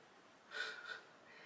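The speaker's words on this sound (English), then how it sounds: "the smallest dog is snoring" A 10-week-old puppy, the smallest dog, gives one faint, soft snoring snort in a quiet room.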